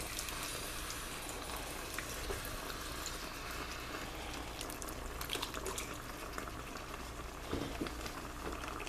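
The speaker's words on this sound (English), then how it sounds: "We're going to add some beef broth now." Beef broth is poured into a pot of homemade beef and bean chili, giving a steady, soft liquid gush and bubbling that continues at low level for several seconds. No voices are heard.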